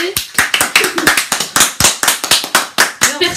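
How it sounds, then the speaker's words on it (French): A small group claps in quick, uneven bursts to celebrate reaching 1000 subscribers during a live stream. About a dozen sharp, close claps come in a steady patter with a voice faintly underneath. "C'est énorme, 1000 abonnés, on applaudit."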